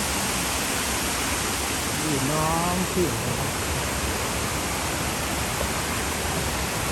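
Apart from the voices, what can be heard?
waterfall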